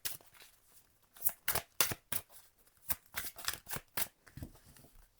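Tarot cards being shuffled and drawn, a run of quick, faint riffling and slapping bursts in uneven rhythm, close by with no talk.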